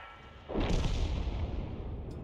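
An artillery gun fires in the World of Tanks video game, a single sudden heavy boom that rolls on as a long rumbling decay, with no talk.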